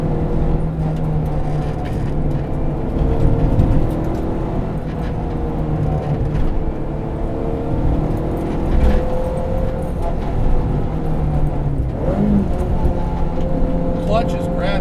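A Honda Civic EG hatchback with a K24 engine swap drones steadily under load coming out of corners, heard from inside the cabin while a person talks over it.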